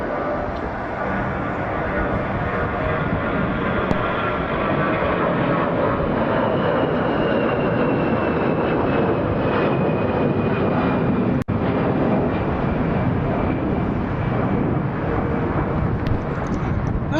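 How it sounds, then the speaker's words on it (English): A Delta airliner departing Atlanta International Airport roars steadily and loudly throughout, a dense, sustained jet engine rumble with a faint rising whine, no talk over it. "also departing from Atlanta is Delta Airlines 1305, and they're headed to Gainesville."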